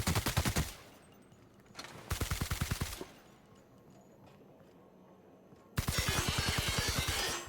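Automatic gunfire in The Outer Worlds, aimed at barrels, comes in three loud rapid-fire bursts with short quiet gaps between them, the last burst the longest.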